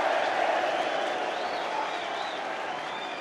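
A Wrexham football crowd at an FA Cup fourth-round match against Sheffield United produces a steady, broad roar of murmuring and clapping, sustained throughout at a fairly even level.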